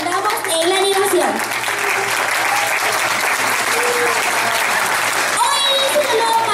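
A loud, sustained wave of applause fills the hall at a children's beauty pageant gala for Miss Teen Venezuela, with voices calling and cheering over the clapping throughout.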